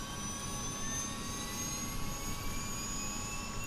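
An MV-22 tiltrotor aircraft in Flight Simulator 2020 produces a constant, loud turbine roar with steady whining tones and a broad low rumble, unchanging throughout and with no voices.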